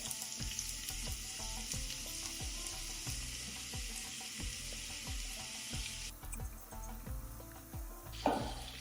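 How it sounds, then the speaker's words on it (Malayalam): Cut onions fry in a pan with a steady close sizzle and repeated soft clicks. The hiss drops noticeably near the end, and no one speaks. "ഈ പാനിലോട്ട് കട്ട് ചെയ്ത് വെച്ചിട്ടുള്ള സവാള ഇട്ട് കൊടുക്കുന്നുണ്ട്"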